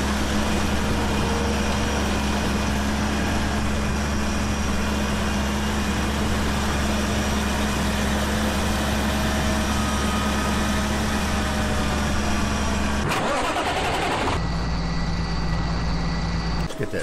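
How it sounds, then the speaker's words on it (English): Truck engine idling in Farming Simulator 17 on an Australian farm, a steady low rumble held throughout, briefly disrupted near the end before settling back into the idle. "Let's get that truck out of the way."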